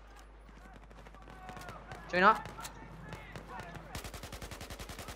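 Automatic gunfire in the Battlefield 4 shooter game, a rapid even burst of shots near the end following a louder blast, with someone talking over the action.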